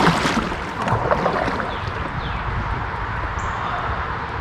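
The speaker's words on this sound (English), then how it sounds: "Let's paddle up just a little bit." A boat is paddled upstream on a river during a smallmouth fishing trip, with a steady rush of water and paddle splashing heard close up for the whole stretch.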